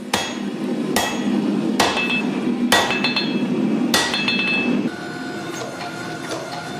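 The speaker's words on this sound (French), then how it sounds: "je la porte à la presse et je rends toute la surface plate" A forging press flattens a steel billet for a San-Mai Damascus kukri, giving four or five loud, evenly spaced heavy thuds with ringing metallic overtones over a steady mechanical hum that drops quieter near the end.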